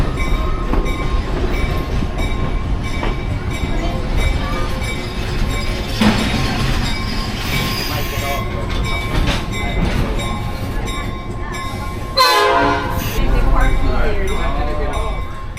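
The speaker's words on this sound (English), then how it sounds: "And that is our locomotive pulling away." Black River & Western Railroad locomotive pulling away from a station, a loud steady rumble of engine and rolling cars with clanks and a brief louder burst near the end, a person speaking over it.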